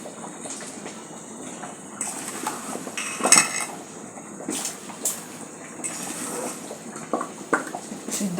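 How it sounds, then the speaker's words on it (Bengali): Raw papaya pieces dropped into a pot of simmering beef shank curry, with scattered metallic clinks and clatter of pot and utensils plus soft bubbling at moderate, close range, no talking. "দিয়ে দেব পেঁপেগুলো।"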